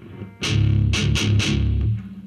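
Heavily distorted electric guitar plays a heavy metal rhythm with downstrokes on the open bottom two strings, a few chunky bursts under a thick sustained low drone, loud and close, with no talk.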